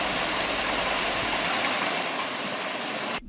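A year-round forest stream flows steadily, a loud continuous rushing wash close by with no voices, cutting off abruptly at the end.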